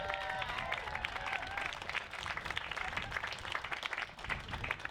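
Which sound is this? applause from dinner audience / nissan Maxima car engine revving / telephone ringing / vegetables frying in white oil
applause from dinner audience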